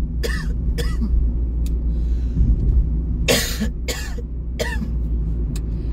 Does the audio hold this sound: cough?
yes